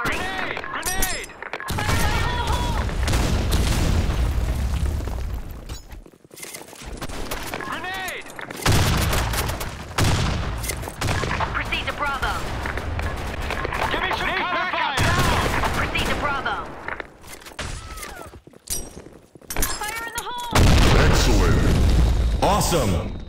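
Gunfire and explosions in a first-person shooter video game, a near-constant barrage of shots and booming blasts, loud and close, with voices talking and shouting throughout.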